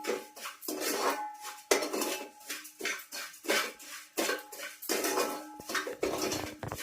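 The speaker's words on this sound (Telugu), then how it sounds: "అవి లేవు కాబట్టి నేను ఇప్పుడు సేమియా వేస్తున్నాను" Vermicelli goes into a pan and is stirred for pumpkin kheer. Metal spoon scraping and clanking against the pan repeats in rapid close bursts, with no voices.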